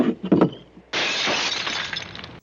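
A glass jar marked caution falls to the ground and shatters: a few light knocks, then a sudden bright crash of breaking glass that rings and tinkles for over a second before cutting off.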